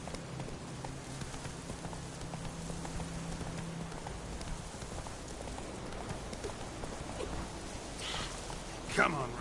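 The horse Roach gallops in The Witcher 3, hooves clip-clopping in a steady quick rhythm over rain pattering on the ground, with a louder burst of movement near the end.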